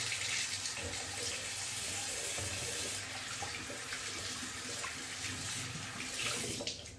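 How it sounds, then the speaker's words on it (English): Running tap water splashes steadily during a quick face rinse in a sink, a constant close hiss with no talking. "Quick face rinse."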